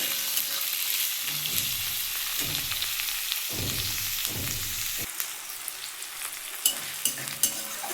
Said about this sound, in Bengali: এর মধ্যে আমি এবার পেঁয়াজ আর টমেটোটা দিয়ে দেবো দিয়ে বন্ধুরা একটু ভালো করে ভেজে নেবো